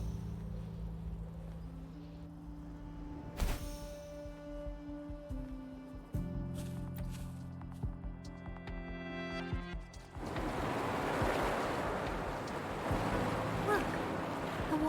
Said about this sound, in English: Look, the water is going down.